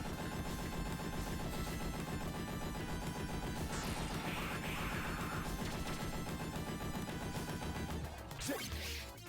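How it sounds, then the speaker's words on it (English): Machine gun and flamethrower fire in the Konami Aliens arcade game rattle in dense, continuous rapid bursts with crashing explosion effects and electronic game sounds mixed in, quite loud and unbroken until a final crash near the end. "I don't have to mash on the machine gun, but you have to mash with the flamethrower"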